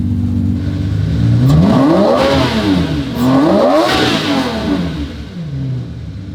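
A car engine with a fault, slow to rev up, revs and drops back several times in a row, a rising and falling roar close by with no talking.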